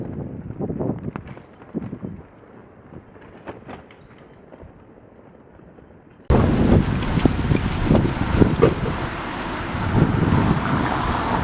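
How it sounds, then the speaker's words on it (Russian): Wind gusting against the microphone during light drizzle on a road trip from Roosendaal, Netherlands into Belgium, a soft rumbling bluster that jumps abruptly to a loud, steady roar halfway through. "дождик все накрапывает, ветер немножко помогает, но не мешает"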